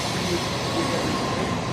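A fast train in Japan rumbles past in a steady, loud roar of wheels on track, with broadband rushing noise and faint rail squeal throughout.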